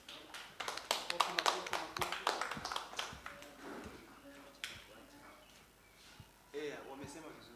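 A small audience at a church youth talk show claps in a quick, scattered burst that thins into a few faint taps, with talking underneath and after.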